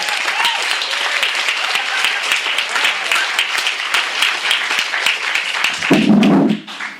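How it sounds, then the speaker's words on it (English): Sustained audience applause at a book event for a music critic's collection, a thick, even roll of many hands clapping for about six seconds, then a brief low rumble as it ends. "Let's give her another round of applause."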